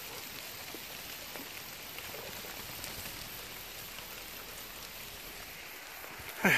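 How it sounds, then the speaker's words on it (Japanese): Steady rain from a sudden summer evening shower falls on surfaces outdoors with a golden retriever nearby, a dense even patter holding constant throughout, with a brief louder rustle at the very end. "これから、雨の音がしてます。"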